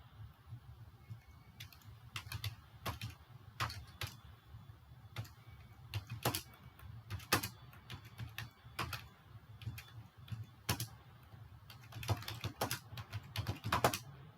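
Typing on a computer keyboard, setting up a coaching folder in an AI chat tool: steady, close key clicks in irregular bursts with occasional louder strokes, continuing alone without speech.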